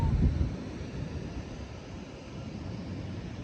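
Steady low rumbling wind on the Moroccan coast buffets the microphone, with a stronger gust at the start, then settling into a constant roar.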